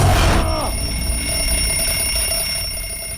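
A timer alarm from an Ip Man fight scene rings loud and steady, a sustained electronic tone that holds for several seconds after a brief noisy jolt at the start.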